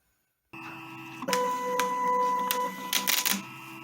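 A GCC Expert II LX vinyl cutter scans sticker register marks, giving a steady mechanical whir with a sustained tone and bursts of carriage movement and clicks, close and alone after a short silence.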